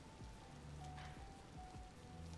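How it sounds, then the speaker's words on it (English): Steady in-game rainfall from Vintage Story, a soft continuous patter of drops on surfaces that holds evenly for the whole stretch, with faint low rumbles and a thin background tone beneath it and no voices. "Raining in-game, thundering outside of game"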